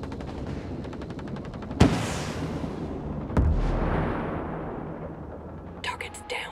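Two sharp rifle shots ring out a couple of seconds apart in the Ghost Recon Breakpoint video game, each followed by a rolling echo, against a low ambient background with a brief burst of noise at the end.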